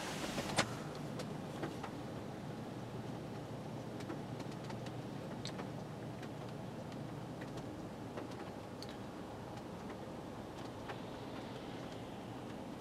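Quiet cabin of a 2013 Honda Accord EX-L at idle, a low, steady engine hum and faint air noise heard from inside, with a few small ticks and clicks and no speech.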